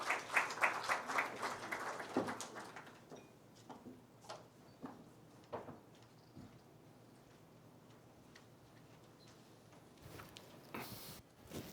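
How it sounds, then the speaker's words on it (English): An audience claps to welcome two speakers onto a fireside chat stage, the applause strongest at the start then thinning to scattered claps and room quiet, with a few handling knocks near the end. "A big round of applause."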